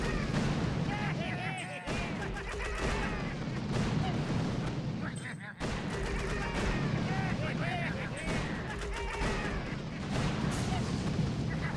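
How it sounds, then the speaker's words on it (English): Artillery fire from the mobile strategy game Boom Beach, a dense, continuous barrage of booming shots and blasts mixed with game effects, loud throughout with a brief drop in the middle. "More shots, good."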